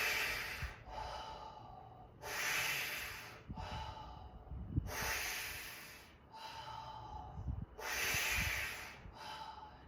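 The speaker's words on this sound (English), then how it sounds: "we're going to do 6 breaths here" Deep, slow breaths during a fascia breathing exercise, alternating long hissing inhales and exhales, close and fairly quiet, several full breath cycles in steady rhythm with no talking.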